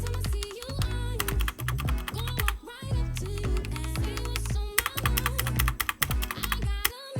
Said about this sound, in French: la barre espace qui elle produit un son métallique qui est pas super agréable